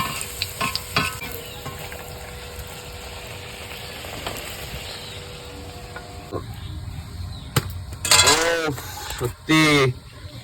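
Luchi fry in hot oil with a constant close sizzle and crackle, occasional stirring clinks, and brief voices near the end.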